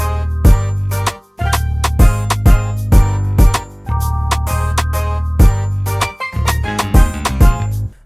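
Punchy kick drum in a 2000s RnB beat landing with the chord hits of the melody, repeated thumps under full chords and bright percussion, loud and steady with no talking.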